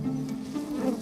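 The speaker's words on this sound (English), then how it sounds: "The smoke helps to calm the bees." Honey bees buzz around a beehive kept in a garden as smoke is puffed at the entrance, giving a steady, low, close drone that holds for about a second with no speech.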